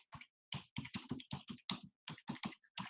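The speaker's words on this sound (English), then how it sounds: "Type in your website." Someone types a website address on a computer keyboard, producing a quick run of crisp, close keystroke clicks in short bursts with brief pauses, quiet overall and without speech.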